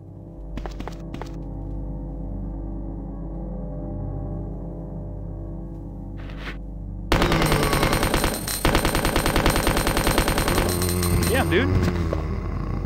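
Rapid automatic gunfire blasts a boss zombie in a Resident Evil 2 mod, a dense loud burst after a quieter stretch of game ambience, with a voice talking over it.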